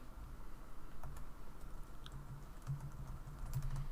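Quiet keystrokes on a computer keyboard tap out a short word in an irregular rhythm, soft and close against a faint low hum, no talk.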